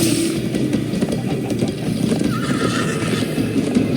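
Horse galloping and neighing in the Minecraft Story Mode video game, a steady rumble of hooves running continuously with a whinny rising above it partway through, close and fairly loud with no voices.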